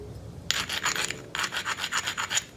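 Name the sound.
beveling a flint edge while knapping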